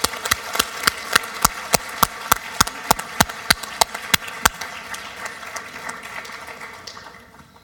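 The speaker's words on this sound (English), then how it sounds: "Please let's give a warm round of applause for these students." At a youth human rights awards ceremony, someone claps alone in a slow, even rhythm of about fifteen sharp claps, then these stop and a softer rustling murmur trails off.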